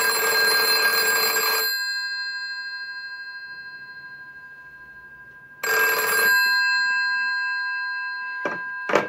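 An old-style telephone bell driven by a DMX ringer box rings in two long, loud metallic bursts separated by a pause, followed by a short clipped ring at the end, with no voices.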